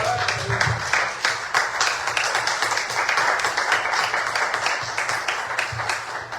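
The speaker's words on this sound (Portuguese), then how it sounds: "quem puder, as palmas para o Senhor Jesus" A church congregation claps for Jesus during a Portuguese-language service, a full, sustained round of clapping that fills the room from start to finish, with a low voice briefly heard beneath it.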